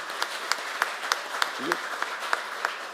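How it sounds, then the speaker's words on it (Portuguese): Applause at a special session for the Novembro Azul campaign: sparse, evenly paced claps in a slow rhythm, fairly faint, with a short voice sound in the middle. "uma salva de palmas, todos os homens aqui presentes"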